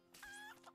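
A chicken in the video game Stormgate gives a single short, faint cluck, heard alone and quiet.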